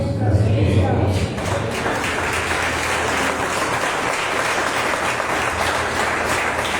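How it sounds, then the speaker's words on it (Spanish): A church congregation bursts into loud, dense applause at a sermon, sustained clapping filling the room with some low thumps at the start and a voice briefly over it. "Gracias por su aplauso."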